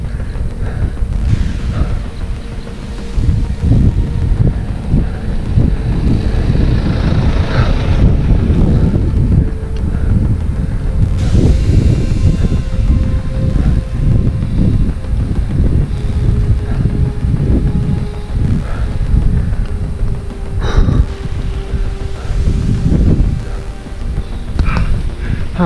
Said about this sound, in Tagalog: Mahangin na dito.